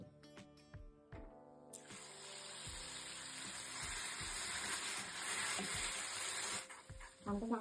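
Finely chopped onion hits hot oil already holding red chili powder, setting off a loud, steady sizzle that swells and holds for several seconds over a few early clinks, then cuts off near the end.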